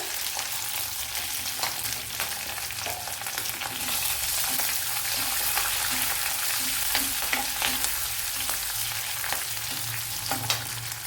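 Curry leaves, a small piece of ginger and a green chili sizzle in hot oil for semiya upma, a constant near crackle with a row of light spatula taps and stirs, no voices over it.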